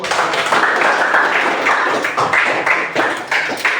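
A classroom of students applauds after a group presentation, a dense burst of many hands clapping together, fairly close and loud, continuing unevenly for a few seconds.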